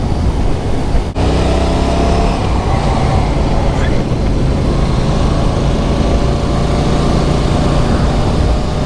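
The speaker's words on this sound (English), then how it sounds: "It's a very forgiving motorcycle to ride." A Royal Enfield Classic 650 motorcycle is ridden on the road, its engine a steady, loud droning hum beneath a constant rush of wind noise, with one brief click early on.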